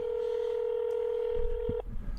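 A single long, steady telephone dialing tone holds evenly for almost two seconds and then cuts off as a live Skype call is placed, with a brief low thump near the end and no talking.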